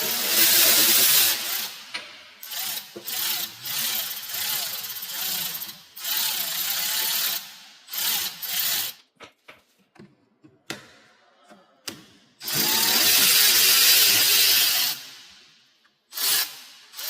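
A power tool taking a small cover off a Jeep El Jefe during a wiper install, loud close bursts of whirring and rattling broken by short pauses and lighter clicks and taps.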